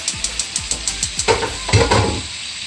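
Packaged sundae, both plain and seasoned, stir-fried with glass noodles and a splash of noodle water over high heat: a close, steady sizzle under quick rhythmic spatula taps and scrapes against the pan.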